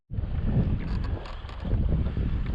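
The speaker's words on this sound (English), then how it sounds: "Pretty windy this morning." Wind gusting over a lake during a kayak fishing tournament morning, a steady low roar and buffeting against the microphone that swells and dips but never drops away, with light water chop beneath.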